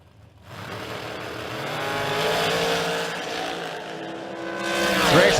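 Drag racing cars at the King of the Creek event launch down the racetrack, rising engine roar that builds and sustains, then swells again with a high screech near the end, loud and close.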